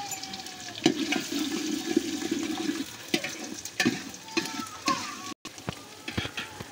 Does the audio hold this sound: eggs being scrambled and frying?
yes